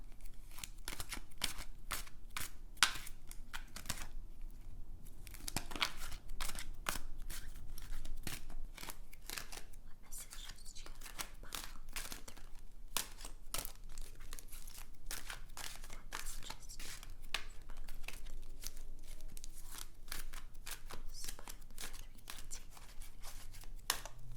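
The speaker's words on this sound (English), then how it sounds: "I'm going to be shuffling your cards right now." Tarot cards are shuffled close up in a quiet room, a long run of crisp, rapid riffling snaps and soft slides repeating in quick bursts with no talking.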